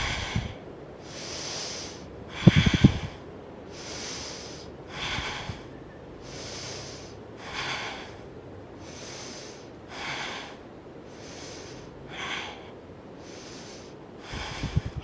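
Deep, slow breaths during a yoga boat pose, Ardha Navasana, come as a steady series of audible inhales and exhales, each about a second or two long, close and alone with no talk.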